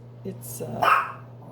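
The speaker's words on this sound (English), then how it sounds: "There's another dog running loose outside" A couple of dog barks ring out from a distance, short and sharp, with a faint voice nearby.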